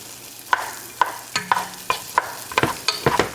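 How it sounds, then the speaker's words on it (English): Chopped onions frying in a pan for vodka sauce, a soft sizzle punctuated by regular sharp knocks and scrapes of the spoon stirring, close and fairly loud. "So chopped onions. We're going to cook it up."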